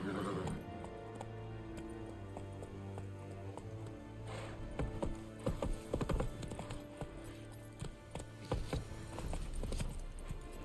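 Rhythmic hoofbeats of a horse galloping in the video game The Witcher 3, steady clip-clop patter over a constant layer of game music and ambience, with a few louder hoof strikes midway.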